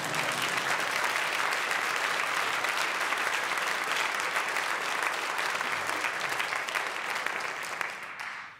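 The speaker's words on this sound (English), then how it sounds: "Oh, with some applause." An audience claps at a translation prize ceremony, a dense, steady round of applause that holds throughout and fades out at the very end.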